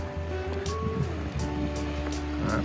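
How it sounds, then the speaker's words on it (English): The Nanaimo river rushes past rocks close by, making a steady broadband wash with a low rumble and occasional brief splashes, holding even in level from start to finish. "it's just a very rocky spot with the river just flowing right next to us."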